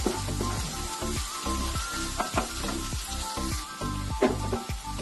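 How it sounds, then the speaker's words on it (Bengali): Garlic frying in hot oil for a Bengali fish curry, a steady close sizzle with repeated scraping strokes of a spatula as it is stirred, over quiet background music. "রসুনটা দিয়ে এবার ভালো করে একটু কষিয়ে নেব।"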